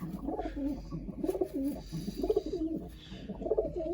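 Pigeons coo close by in repeated soft, throaty, rolling calls, several overlapping in a slow rhythm.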